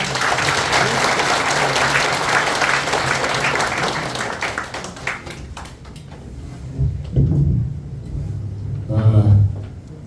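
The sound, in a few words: audience applause welcoming the speaker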